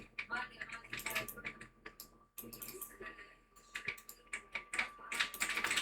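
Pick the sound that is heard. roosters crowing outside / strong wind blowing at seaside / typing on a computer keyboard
typing on a computer keyboard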